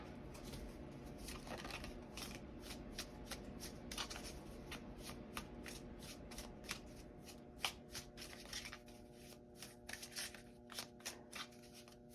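Tarot cards being shuffled by hand in a long, steady run of quick riffling flicks and soft slaps, close and quiet, with no talk.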